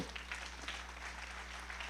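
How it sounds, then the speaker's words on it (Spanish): A church congregation claps for the Lord in a sustained, moderate patter of applause that stays fairly even throughout, with no voices standing out. "Le da un aplauso al Señor por eso"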